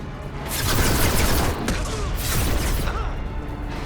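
Mass Effect 2 combat on the far side of a conveyor line: dense, continuous bursts of sci-fi gunfire and impacts, loud and close throughout with no pauses.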